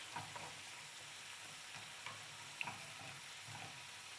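Potato fries sizzle steadily in a pan of hot oil, a faint, even hiss with occasional small pops and ticks, close by and with no voices.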